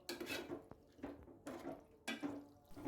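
Mutton and browned onions are stirred in a cooking pot for a curry, giving several bursts of scraping and clattering against the metal with brief pauses between them and no speech.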